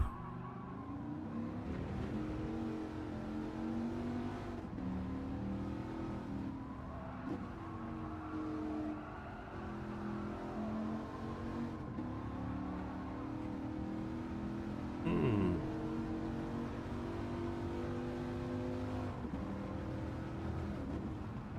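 A race car in Gran Turismo 7 drives a time trial, its engine droning steadily with rising and falling revs through gear changes, plus a brief skid-like burst midway, heard without talk.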